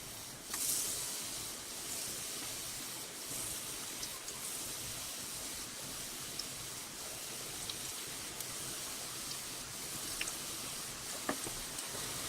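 Raw banana pakoras coated in besan batter fry gently in oil over a low flame, making a soft, even hiss that stays faint and constant throughout, with a few tiny pops.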